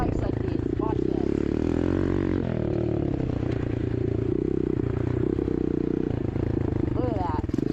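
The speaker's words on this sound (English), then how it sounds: "I'll do a wheelie real quick." A motorbike on bumpy dirt pulls a wheelie: a loud, continuous engine drone with revving pitch shifts and clattering, heard up close throughout, with a voice talking over it.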